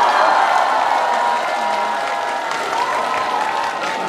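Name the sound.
audience applause at festival opening concert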